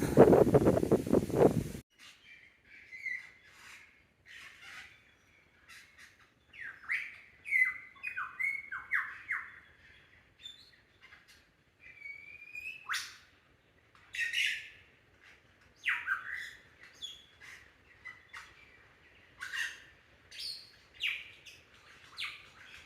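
A lyrebird in the Australian high country mimics other birds' calls, pouring out varied squawks, chirps and whistled phrases in bursts after an opening gust of wind, fairly close and otherwise quiet.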